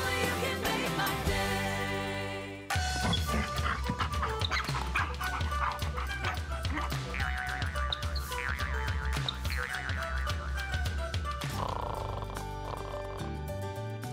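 Dog barking in a radio advertisement for Hills Canine dog food, the yaps and woofs set within a busy, continuous music bed that drops briefly before resuming at full level.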